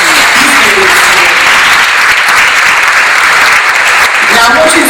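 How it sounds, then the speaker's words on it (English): Sustained, loud applause from an audience at a community resource meeting after the 2016 Baton Rouge flood, steady clapping filling the whole stretch with no talk over it. "If you believe that, clap your hands."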